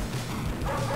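Dogs bark and yip continuously in the video game N.A.R.C. amid a dense, noisy game backdrop, loud and close throughout.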